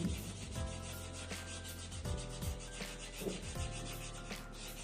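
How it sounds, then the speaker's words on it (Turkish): Repeated scraping strokes of sandpaper rubbing a ceramic piece in a ceramics workshop, a rhythmic back-and-forth rasp at close range. "O yüzden onu zımparayla çıkartıyorum."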